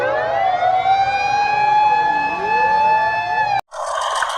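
A toy ambulance's loud electronic siren wails steadily with sweeping tones close by, cutting off abruptly before a brief burst of noise.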